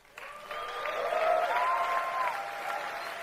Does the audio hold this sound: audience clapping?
yes